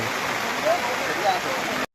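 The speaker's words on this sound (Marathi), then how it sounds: "पाऊस जबरदस्त आहे" Heavy rain comes down as a dense, even hiss like a rushing stream, with faint voices underneath, before the sound briefly cuts out near the end.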